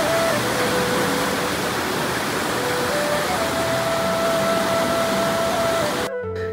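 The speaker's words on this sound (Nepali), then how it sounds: "टाढेबाट उठेको बाफ र सलल्ल बग्ने पानीको ध्वनि सुन्न सकिन्छ" Sulphur-rich natural hot spring water at Singha Tatopani in Myagdi district, Nepal, flows in a loud, steady, continuous rush that cuts off abruptly near the end.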